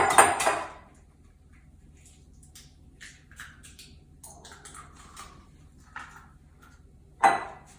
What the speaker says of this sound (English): we're going to crack our 2 eggs into the bowl